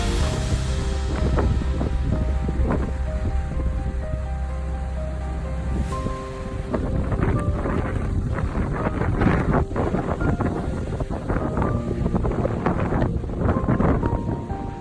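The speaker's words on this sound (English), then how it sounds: "Giant waves crashed, burying entire historic houses in the raging sea." Giant sea waves crash against and bury historic houses on the Irish coast. A loud, continuous roaring surge with heavy wind buffeting the microphone, and no voices.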